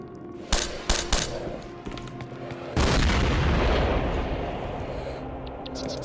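Gunfire in the video game STALKER: Shadow of Chernobyl: three sharp, close shots in quick succession, then a heavier blast that rolls into a long, fading rumble.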